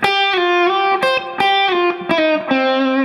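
Twangy electric slide guitar plays a country-style major pentatonic lick, with notes gliding between pitches, heavy vibrato and overdrive, sounding close and loud with no talking over it.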